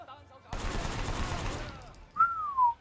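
A burst of 9mm pistol fire in the Sleeping Dogs video game, a rapid, dense volley that starts abruptly and rattles on for over a second, followed by a rising whistle-like tone.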